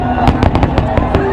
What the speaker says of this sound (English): New Year's Eve 2015, Otto headed to Kim Il-sung Square for fireworks.